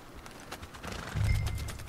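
A horse named Jeremiah on a ranch in Red Dead Redemption 2, heard as soft hoof clip-clops followed by a low snort or whinny that rises near the end, fairly quiet.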